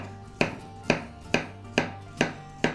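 A knife slices peeled bananas into rings on a cutting board for a no-bake banana cake. Six crisp, evenly spaced chops land close and clear, with no talking.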